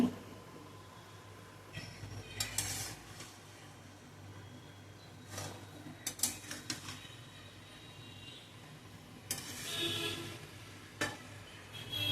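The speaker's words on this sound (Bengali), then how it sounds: "শাকটা দেওয়ার পরে হলুদ লবণ জিরা পাউডার আর একটু আদা দিয়ে এবার ভালো করে কষাতে হবে" Greens cook with turmeric, salt, cumin powder and ginger in a pan, heard as a soft, low sizzle broken by a few louder scraping and stirring bursts.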